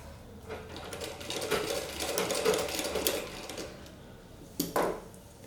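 A sewing machine stitches blouse fabric in a steady, continuous whirring run that eases off toward the end, then gives a couple of brief louder mechanical knocks.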